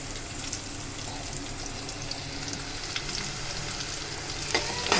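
Raw prawns sizzle and fry steadily in a hot pan for a Telugu-style dosakaya prawn curry, a continuous crackling hiss with a brief louder stir near the end, no voices.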